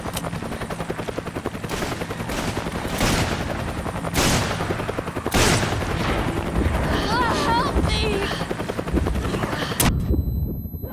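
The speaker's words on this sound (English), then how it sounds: "I can hear gunfire." Bursts of gunfire in the video game Resident Evil 5 crack over a constant helicopter-like rotor drone, with several sharp loud shots and a rumbling mix before it all cuts out.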